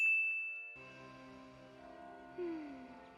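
A single bright bell ding rings out and hangs in a long, slowly fading shimmer, followed by a softer swell of sound.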